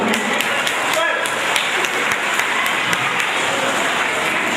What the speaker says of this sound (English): please clap everybody for Mr. Shakil Ahmed